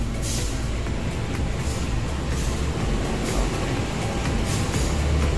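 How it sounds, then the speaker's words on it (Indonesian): Banyubiru Express 232 passenger train pulling into Solo Balapan station late at night, a steady loud rumble of rolling wheels and carriage noise with rhythmic track clatter throughout. "kereta api Banyuburo Express 232 tiba di tujuan akhir stasiun Solo Balapan"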